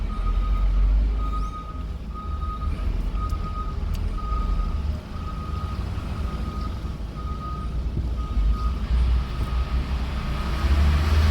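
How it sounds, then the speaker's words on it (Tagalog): Waste disposal truck idling in slow traffic near a medical sciences complex, with a low engine rumble and a steady, evenly spaced reversing beep repeating throughout at moderate distance. "ang waste disposal truck yan"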